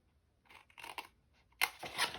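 Scissors snip through paper and cardstock for a craft treat box: a few quiet, close cuts, then two sharper, louder snips near the end.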